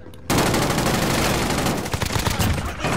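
Automatic gunfire rattling in rapid bursts during a Warzone Rebirth Island fight, loud and close after a quiet start, with voices briefly underneath.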